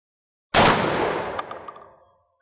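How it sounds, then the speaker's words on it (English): A shotgun fires a single Federal Premium turkey load outdoors: one loud, close blast that hits abruptly and then rolls away in a decaying echo over about a second and a half. "Get rooted and try to get off a well-aimed shot here."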